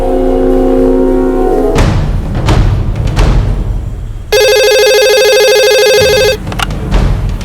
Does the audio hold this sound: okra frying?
no